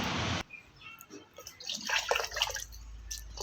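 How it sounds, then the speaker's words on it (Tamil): Yeast liquid fertilizer is stirred and poured into water for plants, giving soft drips and small liquid splashes after a brief rushing pour at the start. "ஸோ இதை நம்ம தண்ணியில் கலந்து இப்போ நம்ம செடிகளுக்கு கொடுத்துடலாம்"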